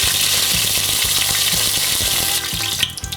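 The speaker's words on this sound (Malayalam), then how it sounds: "ഇത്രയും ചേർത്തതിന് ശേഷം ഇതൊന്ന് മൂത്ത് വരുമ്പം നമുക്കിതിലോട്ട് കറിവേപ്പില ഇട്ട് കൊടുക്കാം." Curry leaves and spices sizzling loudly in hot oil in a pan for a chicken curry with coconut milk, a steady close crackle with rhythmic stirring scrapes underneath.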